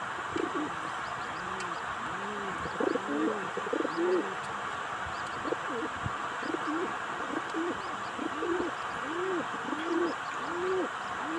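Pigeons coo repeatedly near a Jollibee outdoors, a run of rounded rising-and-falling calls from several birds at close range over a steady background hum, with faint talk under them.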